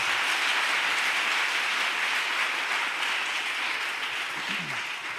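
A church congregation applauds together, a dense, sustained roar of clapping that fills the space at a steady loud level for several seconds.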